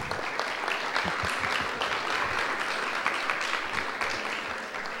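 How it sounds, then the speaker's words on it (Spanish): Dense, steady applause from an audience at a training course for young international leaders fills the room for about five seconds, loud and continuous before tapering slightly at the end. "Un aplauso."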